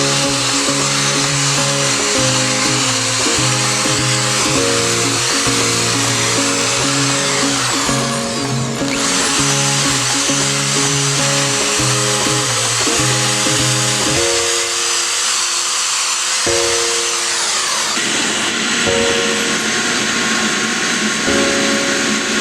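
A vacuum cleaner goes over the floor mats of a 2013 Nissan Sentra, a loud, steady motor whine that shifts pitch as it moves, drops briefly partway through, then resumes.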